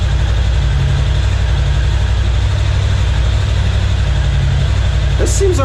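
A GFS600 motorcycle with a PAIR valve and vacuum problem idles steadily while warming up, giving a constant low, throbbing engine drone close by.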